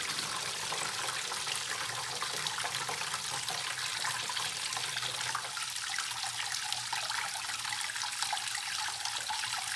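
Water runs steadily while a reverse osmosis filter is flushed, a constant hissing, trickling flow heard close and unchanging for the whole stretch.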